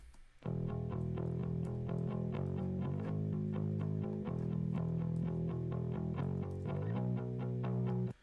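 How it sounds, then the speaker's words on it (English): A thick, distorted bass line in a Logic Pro song mix plays a sustained, repeating pattern of low notes, starting abruptly and cutting off at the end. "Then the last thing I added was this bass right here"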